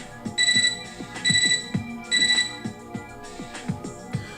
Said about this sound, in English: Our mutual silence is interrupted by my computer terminal's beeping.